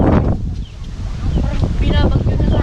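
Strong wind buffets the microphone at a seaside spot, a loud, continuous low rumbling roar with gusty surges, while people talk faintly underneath.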